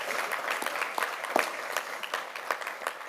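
Applause from an audience at the ribbon cutting for the new Martin Luther King, Jr. Memorial Library, a steady wash of many hands clapping at moderate volume with a few sharper claps standing out, no talk over it.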